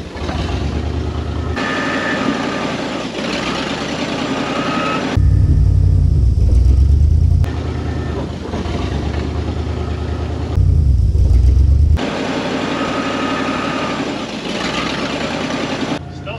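A junk 1952 Kenworth Pacific bus idles steadily up close, with two louder low-rumbling stretches as it is put in gear, while someone talks over the engine.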